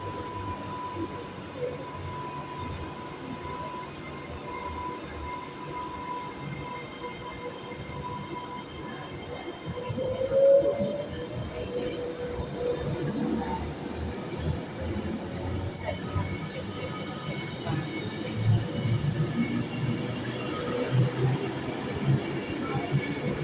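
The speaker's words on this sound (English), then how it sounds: "And off goes the train to London Euston." A train bound for London Euston rumbles steadily as it pulls away from Glasgow, with a brief wheel squeal partway through and low rolling noise continuing throughout.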